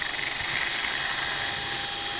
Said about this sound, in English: we're drilling a 6 millimeter tunnel